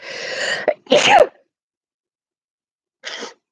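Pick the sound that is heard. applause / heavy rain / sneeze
sneeze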